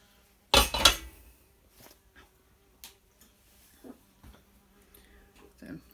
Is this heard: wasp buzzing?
yes